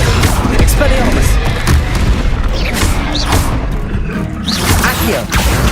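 The Expelliarmus disarming spell cast during Hogwarts Legacy combat: a loud booming magical blast with whooshing bursts over a dense, continuous game soundscape.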